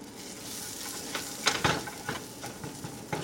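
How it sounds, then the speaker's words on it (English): Butter sizzles and crackles in a hot pan while a bun is toasted, a close, steady frying hiss broken by a few sharper pops and stirring scrapes. "Get that butter nice and melted"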